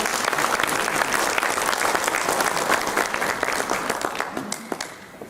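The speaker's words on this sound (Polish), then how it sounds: "Jeszcze raz brawa." Sustained audience applause at a Lemko cultural festival event featuring wedding customs, dense clapping from a crowd throughout that tapers off slightly toward the end.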